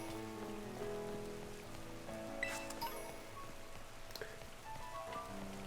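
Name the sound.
rain falling in Pokémon Scarlet video game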